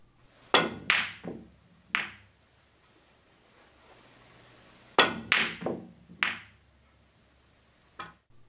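Crisp cue-ball stop shots in two clusters of three or four, each a sharp click followed by a short knock as the ball stops, with quiet gaps between.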